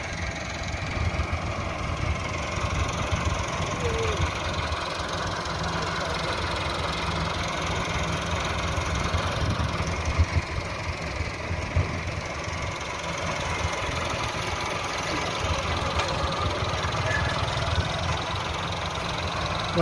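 A Massey Ferguson 385 tractor engine runs steadily in a field, pulling a harrow for sowing sorghum, with a constant low rumbling drone throughout and someone talking intermittently over it.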